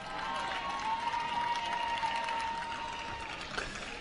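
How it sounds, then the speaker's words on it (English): Spectators at a scholastic rowing championship regatta cheer and clap for a winning freshman eight crew. The crowd noise is a steady, fairly distant wash that holds throughout, with a thin whistle-like tone running over it. "Crowd lets them hear it."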